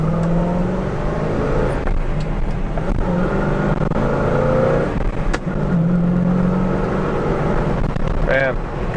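A 1970 Chevrolet Chevelle SS accelerates on the road, its engine holding a steady droning hum beneath someone talking throughout.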